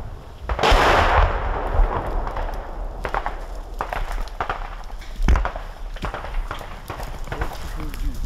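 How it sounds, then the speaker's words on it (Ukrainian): Mortar and artillery fire pounding Russian positions during a Ukrainian infantry advance in the war: a big booming blast near the start, then a second sharp thud about midway, over rumbling outdoor noise and scattered clicks. "Їх накриває міномет і артилерія, поки піхота просувається вглиб"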